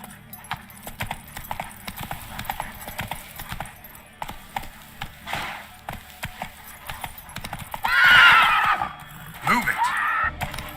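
Roach, the horse in The Witcher 3, gallops in a steady rapid clip-clop of hooves, with speech over it and louder bursts of noise near the end.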